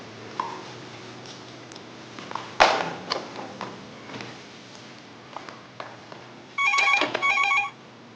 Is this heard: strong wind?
no